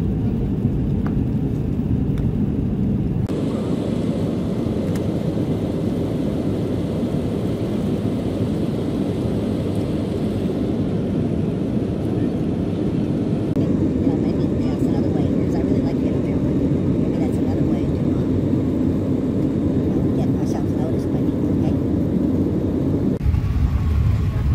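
Steady, loud airplane cabin roar during a flight bound for Incheon, South Korea, a broad continuous rumble lasting throughout with a brief quieter stretch at the start and end.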